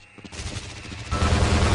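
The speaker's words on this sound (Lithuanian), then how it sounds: "Kas ten šaudos?" Rapid gunfire bursts in the shooter game Half-Life: Blue Shift, a dense crackling volley that swells louder and fuller partway through, sounding close and continuous with no talk over it.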